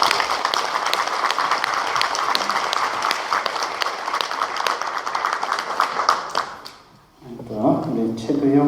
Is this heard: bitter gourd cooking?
no